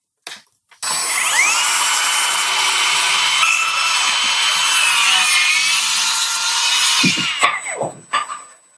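A Bosch 18V cordless circular saw whirs up and cuts steadily through a wood plank for about six seconds, loud and close, then spins down with a few clunks.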